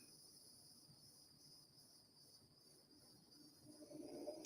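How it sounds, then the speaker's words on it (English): Cicadas buzz outdoors in a faint, steady high drone that holds without a break, with a soft background rumble that builds toward the end. "I think I hear cicadas right now."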